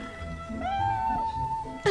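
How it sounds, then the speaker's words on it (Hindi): A small cat gives a single drawn-out meow, close and fairly clear, lasting about a second and ending in a brief rustle. "इस छोटी सी बिल्ली का नाम है मौसी"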